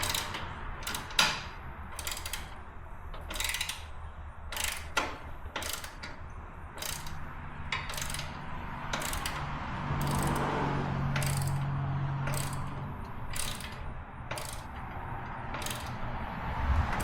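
A ratchet driving a Torx 40 bit loosens a bolt on a bicycle, its pawl clicking in repeated bursts of quick ticks, close and fairly loud, with no voices.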